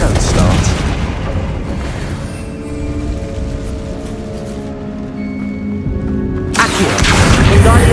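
Loud boom and blast of the Confringo fire spell in Hogwarts Legacy, a sustained roaring explosion with crackling debris and ringing tones that swell again near the end, over game ambience.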